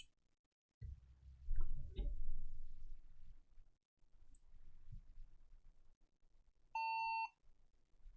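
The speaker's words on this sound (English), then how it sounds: "Ah, it beeped." An old HP desktop computer gives a single short electronic POST beep at power-on, a clear steady tone lasting about half a second near the end, after low fan and mechanical rumble.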